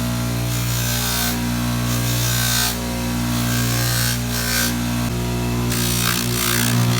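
A large buffing machine polishing the edges of a resized opal ring with coarse compound, giving a steady loud motor hum with a whooshing, brushing friction that swells and eases as the ring is pressed to the wheel.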